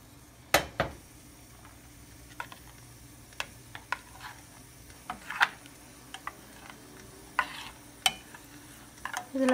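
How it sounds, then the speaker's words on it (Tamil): A spoon knocks and scrapes against a pot as yogurt is stirred into mor kulambu, with scattered sharp ticks over a faint low simmer and no talk. "இது லைட்டாக மிக்ஸ் பண்ணி விட்டுக்கோங்க."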